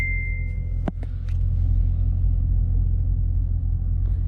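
A car engine rumbles low and steady at a huge outdoor car show, a constant deep drone close by with a few brief clicks over it.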